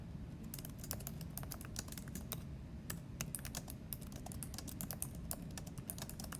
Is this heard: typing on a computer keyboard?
yes